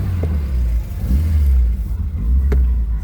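A Renault 5 Alpine drives past nearby, its engine a loud, deep rumble that swells and revs for a few seconds with a couple of brief clicks, no talking over it.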